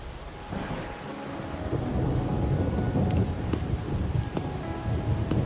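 Steady rain with rolling thunder during a downpour in the video game Wuthering Waves, a continuous loud wash of rainfall with low rumbles building through, no talking.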